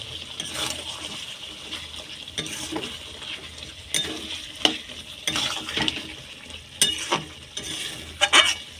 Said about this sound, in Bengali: এইবার ঢাকা খুলে একটু নেড়ে দেব।